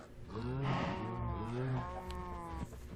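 Cows in the Sky Factory 2.5 video game let out long, overlapping moos close up, several calls blending together in a dense, harmonic bellow for a few seconds.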